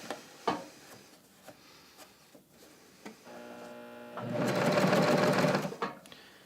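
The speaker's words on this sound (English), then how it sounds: "And now I'm going to start stitching." A sewing machine stitches through sweater knit fabric, starting after a few soft clicks and handling sounds, then running in a loud steady whirring burst for over a second before stopping.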